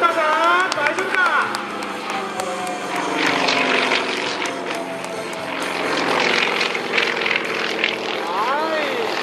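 An aerobatic airplane flown by Yoshihide Muroya loops through a display, its propeller engine droning steadily and rising and falling in pitch beneath continuous excited commentary.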